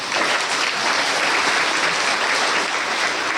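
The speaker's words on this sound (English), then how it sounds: "We clap anew." An audience claps steadily throughout, a dense even wash of applause from many hands at constant loudness with no voices over it.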